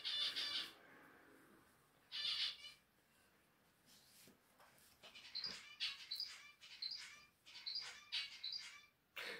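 Pet birds kept indoors at home give short, bright chirps in scattered bursts, faint and fairly close, with no talking over them.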